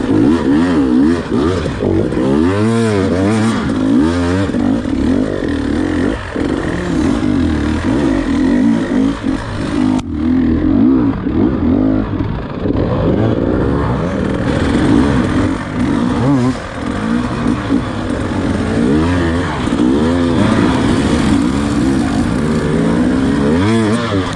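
An enduro dirt bike revs loud and close as it labours up a steep, slick, greasy hill during a hard enduro race, the engine rising and falling continuously under wind noise.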